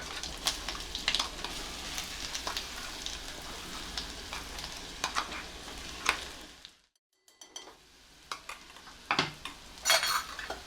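Ground spice paste sizzles in a hot pan with cumin and asafoetida, steady frying hiss with scrapes and clinks of a spoon stirring, a brief drop to near silence midway before the sizzle and scraping return.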